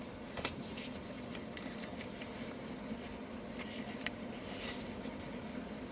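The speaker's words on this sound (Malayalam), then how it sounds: "ഞങ്ങൾ ഇങ്ങനെയുള്ള പേപ്പർ ഇങ്ങനെ മടക്കുക, ഇപ്പുറത്ത് മടക്കുക കേട്ടോ." Paper being folded into a paper boat gives faint, close rustles and soft creases in scattered bursts against a quiet background.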